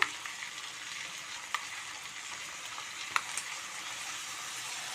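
Ginger, garlic and green chilli paste fries in a pot over lowered flame, a steady soft sizzle with a couple of sharp spoon clicks as it is stirred.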